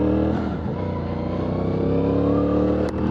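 A 2025 CFMoto CLC 450 motorcycle engine running steadily at low revs with slight throttle on-off surging, a continuous rumbling drone with one brief blip near the end, close and alone.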